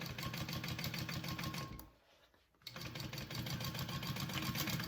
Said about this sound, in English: I have to kind of lift up when I sew with leather because it doesn't slide as nicely as cotton and vinyl